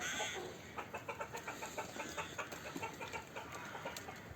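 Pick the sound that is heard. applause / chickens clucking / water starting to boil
chickens clucking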